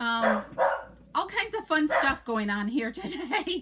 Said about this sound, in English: I apologize for the barky dog